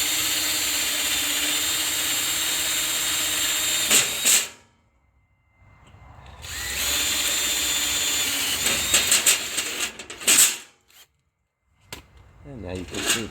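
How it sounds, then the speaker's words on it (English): A power drill whirs in loud bursts, stopping briefly between runs as it grinds into metal screws on a beach surrey floor plate, with rattling handling noises in between. "We're just going to drill those out."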